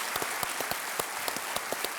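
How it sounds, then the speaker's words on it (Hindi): A studio audience on a Hindi TV quiz show claps steadily, dense applause with distinct individual claps, moderately loud and without talk. "एक बार फिर तालियों के साथ इनका स्वागत किया"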